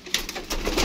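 Pigeons in a loft setup: brief soft cooing and wing rustles, close and fairly loud, in a short burst with no speech.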